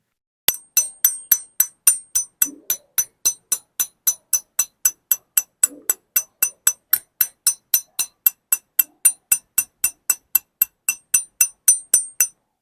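A Hasense Pro 7 bicycle hub freewheel ticks in a fast, regular series of sharp, low-pitched clicks that stop quickly, steady and close, with a couple of faint background thumps.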